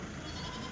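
Goats bleat amid the crowd at the Kadiri weekly goat market, a steady busy mix of animal calls and background bustle, fairly close and continuous.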